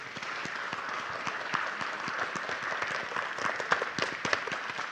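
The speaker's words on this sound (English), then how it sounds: "Let's applaud their work." Panel discussion audience at a Shroud of Turin conference claps, a thinner, quieter spread of individual hand claps at a steady pace, heard from a distance.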